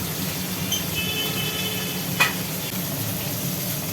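Small fish frying in hot oil in a pan, a steady close sizzle and hiss with one brief clink partway through, no talking.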